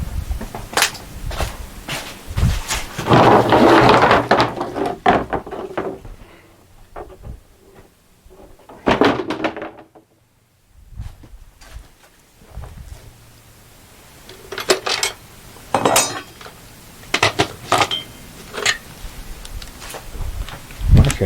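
At a sawmill, someone rummages through metal tools for a wrench, producing irregular clinks, knocks and rattling clatter in uneven bursts with a quiet pause midway.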